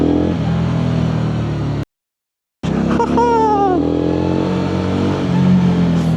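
Engine of a KOVE 625V Lancer cruiser motorcycle while riding and making a U-turn, a steady loud drone with rising revs, briefly cut out and then resuming close by.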